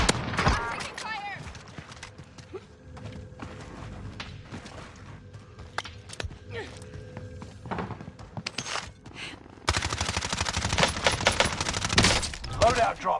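Bursts of gunfire crackle through a first-person shooter video game match, with scattered shots and impacts at first and denser, louder firing toward the end, under in-game radio voice callouts.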